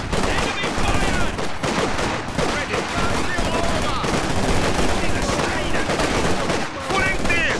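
Battle gunfire in the World War II strategy game Company of Heroes 2, with dense rattling machine-gun and rifle bursts, continuous and loud, mixed with shouted soldier voice lines.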